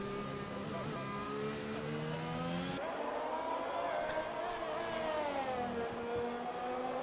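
An F1 car engine screams in a high, sustained whine on board at the Spanish circuit in F1 2021, pitch rising and dipping through gear changes as it heads through the final sector, with a commentator talking over it.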